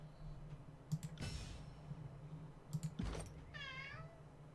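A cat meows twice, a faint drawn-out cry followed by a clearer wavering one, over a low steady hum with scattered soft clicks like keyboard typing.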